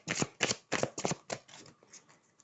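Tarot cards being shuffled by hand during a card reading: a quick run of about eight papery riffling bursts, louder at first and fading toward the end, close and alone with no talk.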